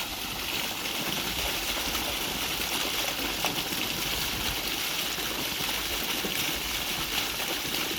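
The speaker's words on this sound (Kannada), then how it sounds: "ನೀವು ನೋಡ್ತಾ ಇರ್ಬೋದು, ಇದು ಒಂದು ಬೋರಿಂದ ನೀರು." Water pouring from a farm borewell near Mysore and running toward areca palms, a steady, even rushing flow that holds the same level throughout, close by with no voices.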